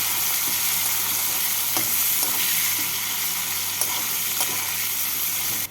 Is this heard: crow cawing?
no